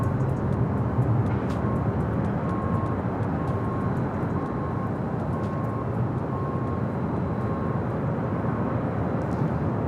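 Frontier Airbus A321neo jet, one year old, at LAX airport, heard as a steady, broad engine roar and rumble that holds level for the whole stretch, moderately loud and somewhat distant, with no talk over it.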